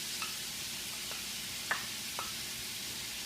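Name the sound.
seasoning mix added to a sizzling pan of vegetables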